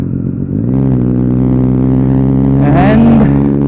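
Triumph Street Triple 675 motorcycle ridden with no exhaust fitted, a loud, steady, raw engine drone held close throughout, swelling briefly toward the end as the revs rise.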